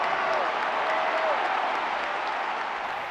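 Crowds cheer and applaud de Gaulle's speeches, dense continuous clapping from a large gathering, heard steadily under a narrating voice.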